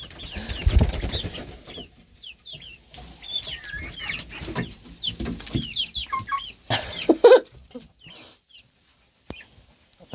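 Backyard chickens clucking and flapping their wings in a garden, with bursts of busy wingbeats and scattered clucks, fairly close and loud, rising and falling over several seconds with short quiet gaps.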